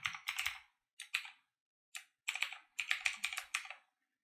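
Close, crisp clatter of a computer keyboard as a password is typed, short bursts of quick keystrokes separated by brief pauses, with no talking.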